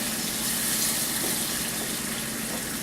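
Juice pours steadily into a pan in a continuous, close gushing stream that holds even throughout with no voices.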